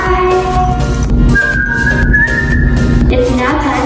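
A person whistles a sustained, wavering tone that holds for a couple of seconds and then shifts pitch, loud and close over a busy background, with a voice murmuring briefly.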